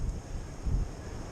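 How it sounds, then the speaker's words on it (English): A brief gust of wind buffets the microphone during outdoor metal detecting, with low, blustery rumbling that surges midway through. "That's really windy. That's a big gust."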